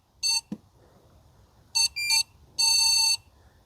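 A cordless robotic pool vacuum gives loud, clear electronic beeps when started by the pool: a short beep, a gap, a few quick beeps, then a longer tone, with no talking.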